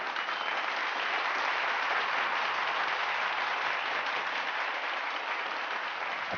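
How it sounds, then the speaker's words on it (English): A large audience breaks into deafening applause, a dense, even roar of clapping that holds steady at full strength from start to finish with no voices on top. "a deafening applause of 2 minutes followed."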